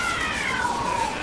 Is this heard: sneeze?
no